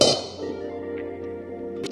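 A metal cooking pot clangs sharply as it is set down in a kitchen, one bright ringing hit that fades, followed by a faint second clink near the end.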